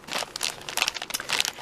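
A plastic bag crinkles and rustles in close, irregular bursts as it is handled indoors, loud and crisp with short pauses between handfuls.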